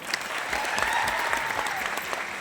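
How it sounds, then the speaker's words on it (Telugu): An audience at a community service event claps together in a dense, steady burst of applause that carries on throughout. "ఒకసారి గట్టిగా చప్పట్లు కొట్టాలి"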